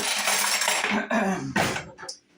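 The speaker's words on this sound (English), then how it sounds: "you're going to stir these 4 ingredients together, and this is what's called your sponge" A bread sponge of four ingredients is being stirred together in a bowl, giving close, repeated scraping and clinking of a utensil against the bowl sides in short bursts before it tapers off.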